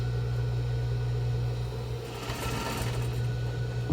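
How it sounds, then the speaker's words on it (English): A home sewing machine hums steadily and loudly, close by, while backstitching the seam of a box-style fabric face mask, its motor drone changing pitch slightly midway and ending with a small clunk. "I'm just going to backstitch here and backstitch at the end"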